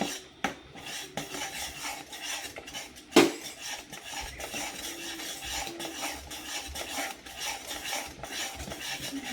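A makhana barfi mixture stirred continuously in a metal pan, with repeated scraping and clinking of the spoon against the pan and one sharp clank partway through, fairly close and quiet.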